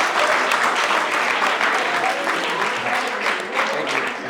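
A room full of people at a social justice café event claps steadily, a thick continuous patter of hands at moderate loudness that holds without pause for the whole few seconds.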